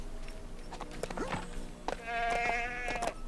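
A goat in the video game LEGO The Hobbit lets out a wavering, glitchy bleat, loud and close, amid clicks and game effects, with a person speaking in the background.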